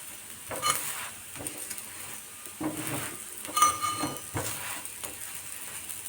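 Thalipeeth flatbread cooking on a hot pan, being turned to brown both sides, with soft sizzling and intermittent scraping and clinks of a spatula against the pan, no speech.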